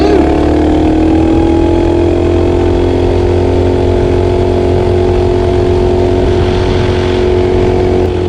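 A Tillotson 212R race engine on a Coleman minibike drones loudly and steadily while riding, a close, buzzing single-cylinder note holding nearly constant pitch throughout, with no talk over it.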